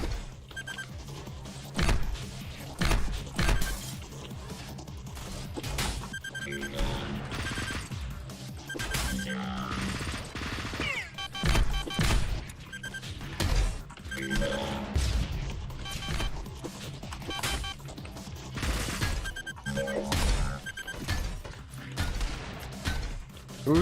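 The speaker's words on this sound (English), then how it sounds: "Who's shooting me?" Rapid bursts of video-game gunfire crack and boom in dense clusters, loud and close, with heavy impacts recurring throughout.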